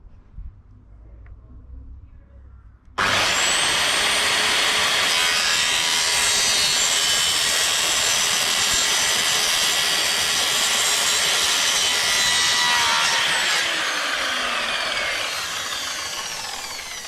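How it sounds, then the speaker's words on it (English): Steady, loud power-saw cutting through a plastic bottom-drain air pipe for a pond, running continuously for about fourteen seconds after a quiet start, with the cut slowly trailing off at the end. "and just cutting it now"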